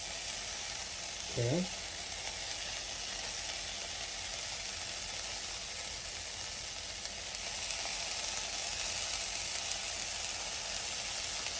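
Cheese and a tortilla sizzle steadily in a hot pan for chicken birria tacos, a constant close hiss throughout with one short spoken word early on.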